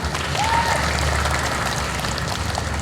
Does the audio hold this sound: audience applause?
yes